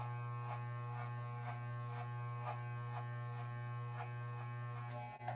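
Electric hair clippers fitted with a number 5 guard buzz steadily close up while fading hair in a self haircut, with a faint rhythmic pulse as they pass through the hair.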